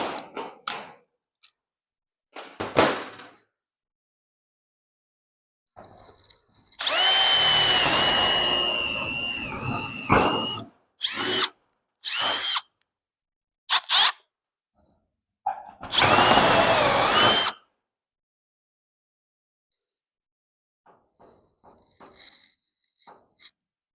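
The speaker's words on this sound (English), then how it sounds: "I'm just going to put a couple rivets to hold this in place." Power rivet tool setting a couple of rivets to hold modified race car roof panels in place, giving loud bursts of a few seconds each with short gaps between them and faint handling noise around them.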